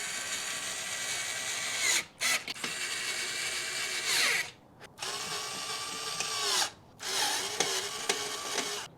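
A power tool drives and snugs bolts on the battery enclosure of a Super73 e-bike being built as a 72V conversion, with four long whirring runs separated by brief pauses, loud and close.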